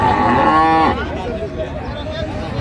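A cow at a cattle market at Raniganj haat in Dinajpur gives one loud, close moo lasting just under a second, then the lowing tails off into the bustle of the market.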